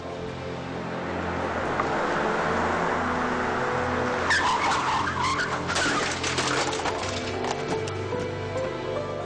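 Cars pull away and skid during a film stunt scene, a steady loud engine roar building into a burst of sharp tire screeches and clatter partway through, with no talk.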